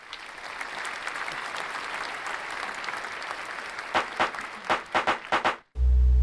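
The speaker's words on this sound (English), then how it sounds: "I want you to clap your hands if you're excited to graduate" An audience claps at a graduation ceremony: steady, dense applause fills the hall, then breaks into a few separate, louder claps before stopping abruptly.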